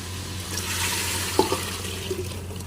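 Water poured from a glass into a pan of fried masala for a pakora curry with yogurt and gram flour, a short soft splash and gurgle over a steady low background hum.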